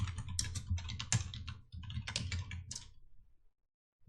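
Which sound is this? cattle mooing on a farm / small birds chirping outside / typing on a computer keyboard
typing on a computer keyboard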